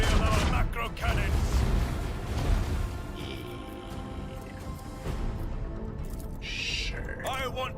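Macro cannons in Warhammer 40000: Rogue Trader fire in a dense, rumbling barrage of booming blasts, loud and continuous, with brief voice lines cutting in near the end.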